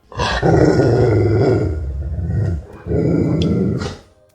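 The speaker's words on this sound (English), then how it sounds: "the wolf took a step closer, its growl going lower" A wolf growls low and menacingly at close range, a loud, sustained rumbling snarl in two long bursts separated by a brief pause.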